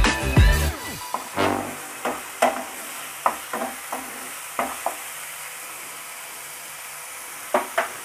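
Spice paste sizzling in a pan for Punjabi-style chana masala, crackling frying hiss with a series of sharp spoon scrapes and stirring knocks at irregular intervals, close and clear.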